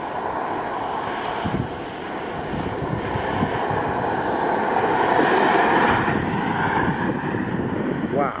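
A radio-controlled model airplane, a Bavarian Demon in a Boomerang setup, drones steadily overhead with a loud, continuous whining engine tone that swells slightly as it passes, against outdoor wind noise.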